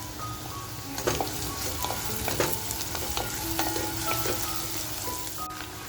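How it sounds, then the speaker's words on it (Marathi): Green chillies gone red fry in hot oil for a mutton masala, a continuous close sizzle broken by sharp spatters and the clink of a stirring spoon, with no talking. "हिरव्या मिरच्या ज्या लाल झालेल्या आहेत त्या सुद्धा आता आपण तेलामध्ये फ्राय करून घेणार आहोत"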